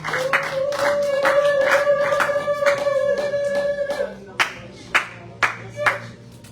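A church congregation claps together to acclaim the Lord, a dense run of rhythmic handclaps under a sustained sung or shouted voice, thinning to a few separate claps near the end.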